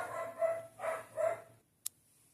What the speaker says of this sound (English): My dog is really barking a lot because of vacuuming.